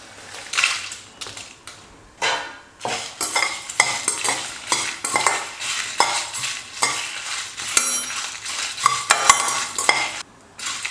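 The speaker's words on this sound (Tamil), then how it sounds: "ஒரு நிமிஷம் நல்லா வறுத்துக்கலாம்." Whole spices (coriander seeds, fennel, cumin, cardamom, cinnamon, cloves) and dried red chillies dry-roast in a pan without oil, stirred in quick, irregular rattling scrapes with a light sizzle, close and fairly loud.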